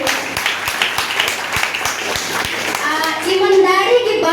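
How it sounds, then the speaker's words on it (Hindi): Applause from an audience at a school achievers' event, a steady patter of many hands clapping, moderately loud, with children's voices chattering underneath and rising toward the end. "जोरदार ताली होना चाहिए।"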